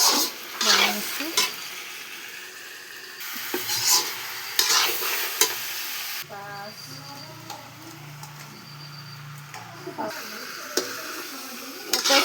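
Goat meat fries in a pan with spices, tomato, ginger and garlic as a utensil stirs it. Repeated scraping strokes and clinks sound close over a steady sizzle, with some voice in the background.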